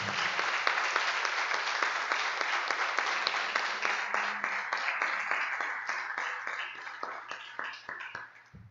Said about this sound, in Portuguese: Eu queria que você desse uma salva de palmas pela sua vida.